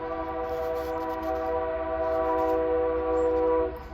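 A passing train sounds its horn in a long, steady, loud multi-tone blast over rumbling wheels and track noise, with no talking.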